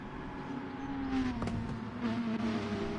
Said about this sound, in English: That's why the cars are as loud as they are.